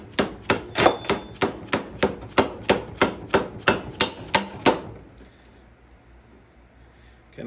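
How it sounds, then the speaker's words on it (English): A Harbor Freight dead blow hammer strikes parts of a Triumph rear axle during reassembly, about fourteen steady, evenly spaced thuds close up, then it stops and leaves a quiet workshop. "Our nice Harbor Freight dead blow hammer, not a sponsor."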